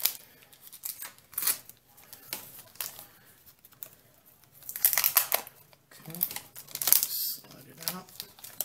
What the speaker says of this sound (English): let's go ahead and rip this device open